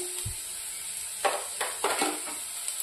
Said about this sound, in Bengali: চিলি ফ্লেক্সটা একটু নাড়াচাড়া করে নেব